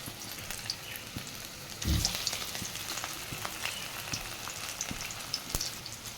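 Battered pieces of fish, coated in flour, are lowered one at a time into hot oil, which sizzles and crackles steadily with a brief louder burst as a piece goes in.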